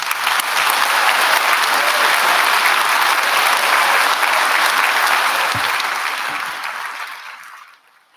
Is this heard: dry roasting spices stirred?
no